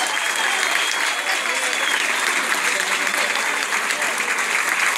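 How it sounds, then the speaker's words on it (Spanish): An audience at a social dance party exhibition applauds loudly, a full continuous wash of clapping with a voice faintly heard over it. "Fuerte el aplauso, venga."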